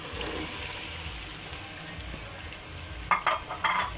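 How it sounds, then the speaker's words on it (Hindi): Chickpeas sizzle in frying pickle masala with a steady close hiss, then a few quick scraping stirs break through near the end. "चने डाल के अब इसको मसाले को हमने करना है अच्छी तरह मिक्स।"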